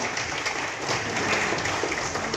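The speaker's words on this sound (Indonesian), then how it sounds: "Kita beri aplaus untuk Bapak Pejabat dulu." An audience at a school officials' launching event claps for an official, a dense and steady patter of many hands that stays fairly loud for the whole stretch.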